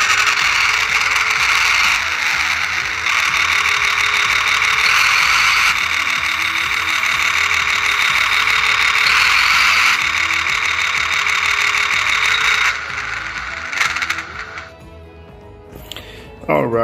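A 1/50 diecast Scania RC truck conversion gives off a loud, steady electronic engine sound that runs continuously for about thirteen seconds, then drops away and falls quiet near the end.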